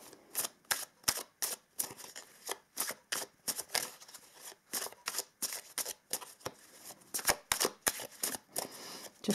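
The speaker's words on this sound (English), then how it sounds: "Just want to shuffle a little bit." A deck of tarot cards is shuffled by hand in quick, rhythmic riffles and snaps that repeat steadily and close up, with no voices.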